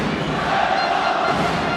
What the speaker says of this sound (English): They haven't played with these drums that you can see in the crowd.